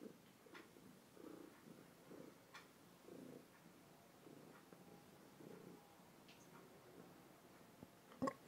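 A two-year-old domestic cat purrs close by in a steady, low rhythmic pulse, each breath cycle audible for several seconds, with a brief sharp click near the end and no talking.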